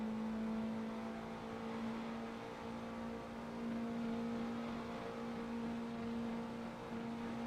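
A race car from a racing video game sits on its rev limiter almost the whole time, a steady loud droning engine note with a constant buzzing tone and slight fluctuations, no talking.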